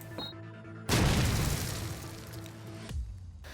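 Grenade explosion in Call of Duty 4 ProMod on the map Strike, a single loud, sudden boom that rolls into a long, noisy rumble and fades over a couple of seconds, with a faint second thud after it.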